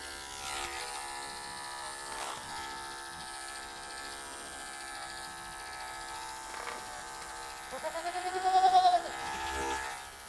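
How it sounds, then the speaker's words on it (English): Andis electric clippers buzz steadily while trimming hair around a market wether goat's eyes, a close, continuous mechanical hum, with a short goat bleat rising over it near the end. "clip a little around the eyes here, take some of that off"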